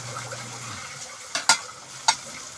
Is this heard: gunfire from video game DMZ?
no